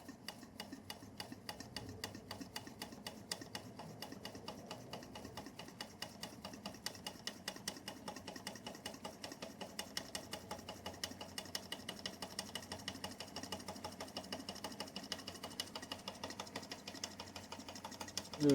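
A vintage Bing 10/110 poppet-valve toy steam engine runs steadily, giving off a fast, even chuffing tick that stays close and constant throughout, with a brief bump at the very end.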